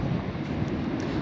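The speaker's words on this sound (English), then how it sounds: "Now, it is pretty windy," Steady wind buffets the microphone beside a pond in Nebraska during bank fishing, a continuous low rumbling roar with no pauses.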